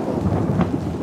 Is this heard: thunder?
yes